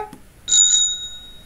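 A bicycle bell gives a single bright ring that sustains and fades over about a second, close and loud in an otherwise quiet setting.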